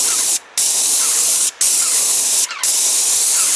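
White paint sprays steadily onto a wooden balustrade in three long, loud, close hissing bursts, each broken by a brief gap as the trigger is released.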